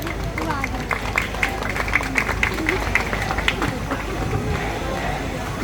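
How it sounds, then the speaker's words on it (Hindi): Crowd clapping and cheering at an SSC students' protest stage at Jantar Mantar, a steady wash of applause with scattered sharper claps, moderately loud throughout. "एक बार जोरदार तालियां हो जाए इनके लिए।"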